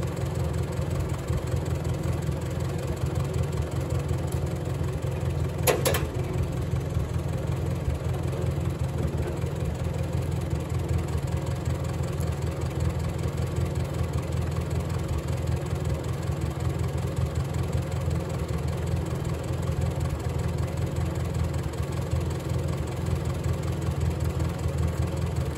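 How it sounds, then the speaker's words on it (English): A small farm tractor's engine idles smoothly and steadily, a low, even rumble with a faint rhythmic knock, heard close by and alone with no talk, with one brief tick partway through. "I've learned about these little tractors is whenever they're tuned up right, they run really, really smooth."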